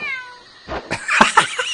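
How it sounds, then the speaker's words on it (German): A cartoon cat meows in the Game & Wario video game, a short rising and falling cry following a brief electronic jingle, loud and close with no talk over it. "Die Katze!"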